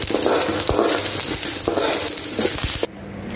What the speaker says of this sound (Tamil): கருவேப்பிலையெல்லாம் நல்லா வறுத்துட்டா உங்களுக்கு வந்து கசக்காது